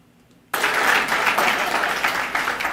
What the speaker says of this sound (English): I don't know where the applause is coming from on this